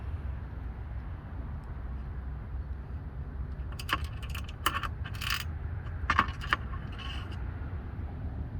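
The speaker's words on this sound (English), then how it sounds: "Drop your screws in there." Small screws clink and rattle as they drop into the edge track slots of a Bora WTX clamp edge, a few quick metallic taps in a short cluster over a steady low hum.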